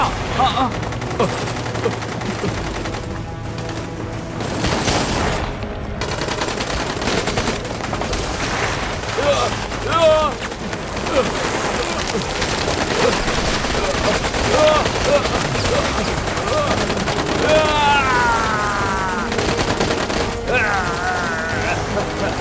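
Sustained gunfire rattles on and off throughout a film action scene, bursts of rapid shots mixed with louder cracks, under a dense, chaotic background of noise and shouting.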